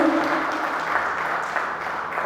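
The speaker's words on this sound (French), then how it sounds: "Je voudrais qu'on applaudisse très fort pour ce monsieur" Audience at a youth book and comic fair award ceremony in Yaoundé applauding, a steady wash of many hands clapping together at moderate loudness throughout.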